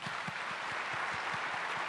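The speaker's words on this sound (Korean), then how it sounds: "박수로 환영하겠습니다." Audience applause welcoming a guest lecturer, the director of a Seoul National University unification and peace institute, at a church prayer gathering for peaceful reunification; a steady, even wash of clapping with soft low thumps throughout.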